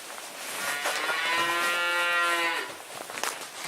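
One cow on a farm gives a long, drawn-out moo that rises and then falls over about two seconds. It is loud and nearby in a quiet, dim setting, with faint rustling at either end.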